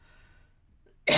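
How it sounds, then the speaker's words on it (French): A single sharp cough bursts out at the very end, loud and close, after near silence from one person speaking French. "Quand je dis le passé, je tousse."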